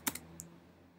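Three quick keystrokes tap on a computer keyboard while an address is entered for a satellite-image search, close and crisp, then a quiet pause.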